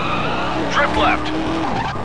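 Tires squeal and skid as a car drifts through a stunt run in Stuntman: Ignition, a loud, close, wavering screech over steady engine roar that lasts about two seconds.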